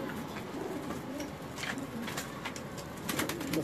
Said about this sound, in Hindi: अब हम अंदर चलते हैं, उस्ताद नदीम साहब के कबूतरों को देखते हैं।